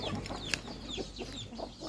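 A young Thai gamecock hen of Red Cuba and Mahanakhon bloodline, ready to lay eggs, gives soft, faint clucks in short bursts, close by and alone without talk.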